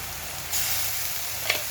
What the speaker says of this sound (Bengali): আদা বাটাটা দিয়ে একটু ভালো করে কষিয়ে নেব